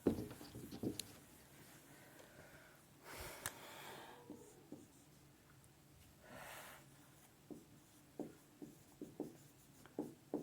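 Chalk or marker scratches and taps across a classroom board as Hindi text is written for a physics lesson, faint and close, in short strokes separated by quiet pauses and a few breaths.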